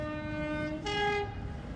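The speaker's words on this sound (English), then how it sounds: "We haven't got long enough to wait for the whole train to pass, but they're rolling down these tracks 24/7" Loaded coal train wagons roll steadily along railway tracks in Australia, a continuous low rumble with sustained tonal horn-like lines and a brief swell near the middle.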